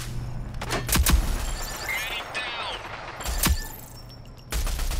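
Bursts of gunfire from the video game Rogue Company, a few sharp shots and short rattling volleys close and loud over steady game background noise, with no talking.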